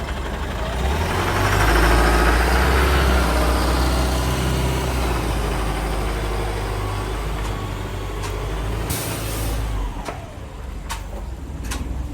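A vehicle engine idles nearby with a steady low rumbling drone, loud at first and easing slightly, with a few faint clicks and knocks toward the end.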